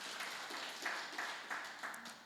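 A church congregation applauds during an Easter Sunday service, a dense, steady wash of clapping filling the room for a couple of seconds with a few brighter swells.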